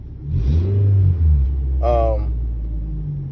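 A 2002-2006 Nissan Sentra engine idling and revving after a new fuel pump install, a low rumbling drone that swells briefly, with someone talking over it.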